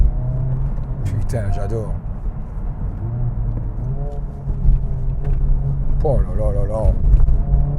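A Honda car drives on a road at night with a steady low engine rumble throughout, growing slightly louder near the end, while a man exclaims excitedly over it.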